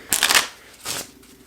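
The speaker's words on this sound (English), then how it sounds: "we're going to shuffle for book number 3" Sticky playing cards being shuffled, two short bursts of riffling flutter separated by a brief pause, close and clear.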